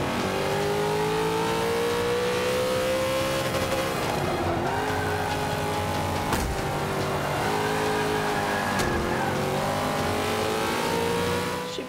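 A maxed-out Hummer in Forza Motorsport 5, its engine revving hard and loud, pitch climbing and dropping through several gear shifts, with a couple of sharp clunks and faint tire squeal over a steady roar.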